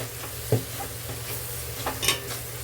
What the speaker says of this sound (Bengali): প্রথমে এই মশলাটা ভালোভাবে কষাবো আমি